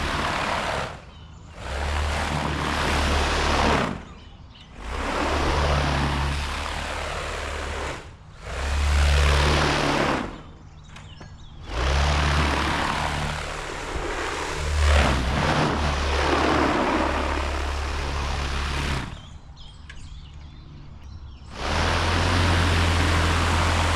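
A propeller-powered swing with a printed propeller runs in loud, whooshing surges that rise and fall as it swings back and forth, with deep engine droning and short lulls between passes.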